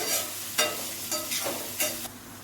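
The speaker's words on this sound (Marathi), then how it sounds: "दोन चार पाकळ्या लसूण ठेचून घेतलाय तो टाकूया आणि ते आपण बारीक गॅसवर परतूया" Crushed garlic cloves added to tomatoes in a pan for paneer bhurji and sautéed over a low flame, giving a soft constant sizzle with several quick stirring scrapes close by and no talking.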